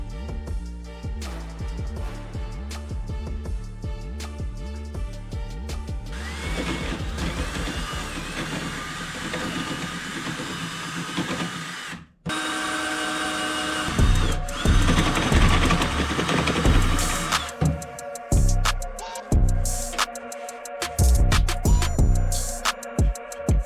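A power drill bores holes for a pull-up bar installation, with a loud whining motor that ramps and holds in bursts, a sharp brief gap midway, then renewed high-pitched drilling close by.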